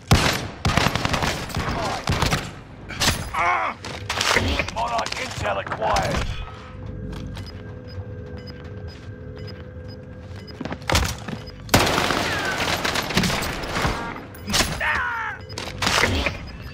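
Rapid bursts of video game gunfire crackle through the first stretch and again after about twelve seconds, layered volleys and thuds close and loud, with a quieter lull and a steady electronic tone between the exchanges.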